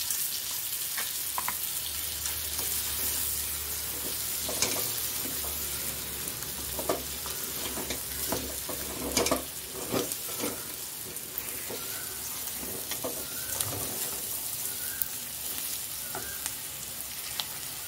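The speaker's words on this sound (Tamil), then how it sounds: "மசாலாலாம் போட்டு கொஞ்ச நேரம் நல்லா வதக்கியாச்சு" Masala sautéing in oil in a pan for an eggplant curry, with a continuous close sizzle and repeated scraping stirs and clinks throughout.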